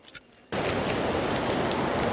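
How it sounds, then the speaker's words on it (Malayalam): Heavy rain in Meghalaya cuts in after half a second of quiet and becomes a dense, loud, steady hiss of downpour that fills the rest of the moment. "നല്ല മഴ തുടങ്ങിയിട്ടുണ്ട് കേട്ടോ."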